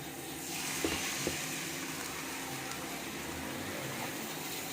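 Hot water poured into a pan of frying spinach and turnip with garlic, giving a steady close sizzle and hiss with a couple of small knocks, no talking.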